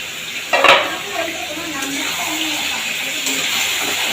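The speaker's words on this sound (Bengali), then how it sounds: "দিয়ে বেশ খানিকক্ষণ আমি এটাকে ভেজে নেব পেঁয়াজের সাথে, কিন্তু ঢাকা দিয়ে দিয়ে ভাজবো" Chicken fries with onions in a covered pan for a dahi chicken dish, giving a steady, moderate sizzle, broken early by a brief metallic clatter of cookware.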